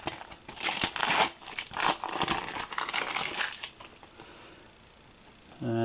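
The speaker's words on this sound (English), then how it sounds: "Here's the actual stickers, as you can see, so let's open those first." Packets of Panini Teenage Mutant Ninja Turtles stickers torn open by hand, with close, loud bursts of crinkling and ripping wrapper over the first few seconds before it quiets down.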